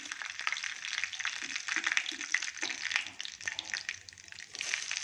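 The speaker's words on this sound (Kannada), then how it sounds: "ಇವಾಗ ಒಗ್ಗರಣೆ ಮಾಡೋಣ" Mustard seeds and asafoetida sizzle in hot oil for a South Indian tempering, a soft, crackling hiss that rises and falls in bursts while someone talks over it.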